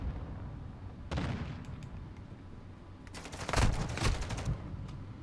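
Gunfire from a TAQ 56 rifle in Call of Duty multiplayer, a short burst early followed by a louder rapid volley, with no talk over it.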